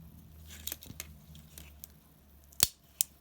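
Bicycle v-brake gear shifter being serviced, its pawl engaging the ratchet teeth: a few faint ticks followed by two sharp, close clicks near the end over a quiet background.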